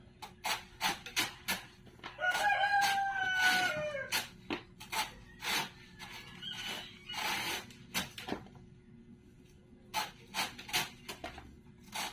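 Chickens being fed make short clucks and a drawn-out call amid a series of sharp scratching and pecking knocks, close and irregular.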